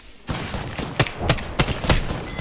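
Gunfire in the video game Apex Legends: an opening shot followed by several sharp, loud shots at fairly regular intervals over a busy background of game noise.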